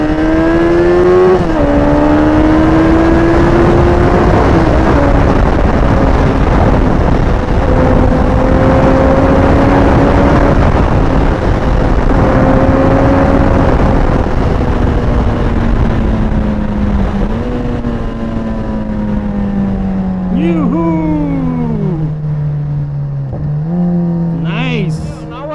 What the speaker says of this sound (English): Small race between Hayabusa and Continental GT.